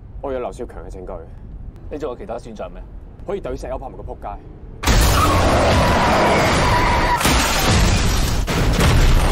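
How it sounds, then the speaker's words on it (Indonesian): A truck slams into a moving car, a sudden loud crash of impact and crunching metal bursting in after a stretch of talk and continuing as a dense roar of noise to the end. "mobil yang mereka tumpangi tiba-tiba ditabrak oleh sebuah truk."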